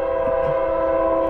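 A freight train on the Lehigh Line sounds a loud, sustained multi-tone horn, close and steady throughout the short burst.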